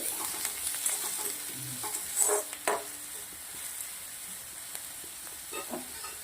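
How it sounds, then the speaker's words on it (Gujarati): Red chillies and onion fry in hot oil for an Indo-Chinese chilli okra dish, giving a steady close sizzle with occasional stirring scrapes and a couple of louder bursts, no voices present. "તેલના અંદર આપણે લાલ મરચાં અને ડુંગળી નાખી દીધી છે"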